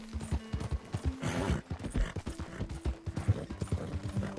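Horse hooves clip-clopping in Red Dead Redemption 2, a quick uneven run of hoofbeats with jingling tack and a faint tonal hum underneath, moderately close.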